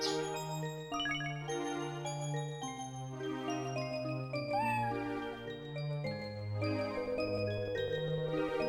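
A cat meows in the Sega Saturn game Princess Crown, a short sliding mew over gentle, sustained in-game melody music that plays throughout.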